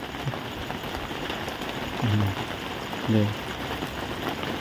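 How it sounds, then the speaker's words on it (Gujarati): Light rain patters softly in a village near Botad, a faint, even hiss throughout, broken by a couple of short low thumps and murmurs. "ધીમો ધીમો ધીમો ધીમો વરસાદ આવે છે"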